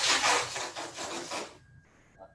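A tape measure is pulled out along a piece of wood, making a continuous scraping rasp for about a second and a half before it fades to quiet, with a faint tick at the end.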